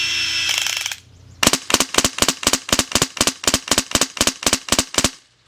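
Airsoft MP5 electric gun firing BBs in semi-automatic mode, about fifteen sharp, evenly spaced mechanical shots in a quick steady rhythm, close and loud, preceded by a brief whirring motor buzz.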